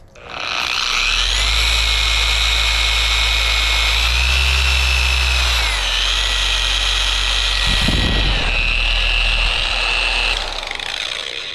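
A Bauer dual action polisher, newly upgraded, running on speed 4: a loud, close, continuous motor whine and hum that wavers slightly in pitch and holds steady for about eleven seconds, with a brief rough scuff midway.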